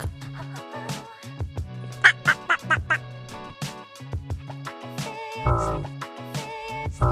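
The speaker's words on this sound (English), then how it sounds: "Duck." A duck quacks repeatedly in short, raspy bursts, close and moderately loud, over soft background music.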